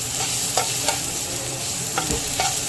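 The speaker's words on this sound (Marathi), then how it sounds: "आता लसूण जिऱ्याचा पेस्ट घालत आहे" Garlic and cumin paste sizzles loudly in a hot frying pan, a dense, even hiss with a few faint scraping stirs, close up and uninterrupted by speech.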